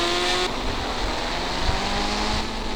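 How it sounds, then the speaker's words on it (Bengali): A motorbike in a mobile racing video game speeds along with a steady, loud synthetic engine drone, a brief higher tone at the start and faint bumps beneath, with no talking. "দেখছো এই বাইকটা স্পিডে গেল"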